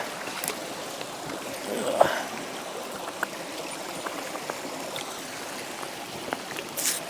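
A chalcedony rock being rinsed in water outdoors while rockhounding in Utah, giving a steady soft trickling and splashing wash with a few small knocks, fairly close and without talk.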